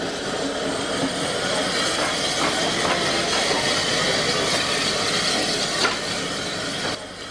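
A Spanish narrow gauge steam locomotive hauling a mixed train of passenger and freight stock rumbles past with a continuous hissing, rattling roar and faint clicking of wheels. The sound stays steady and fairly close.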